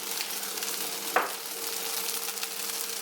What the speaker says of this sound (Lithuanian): Jau kaitinu tenai, reikia apkepti.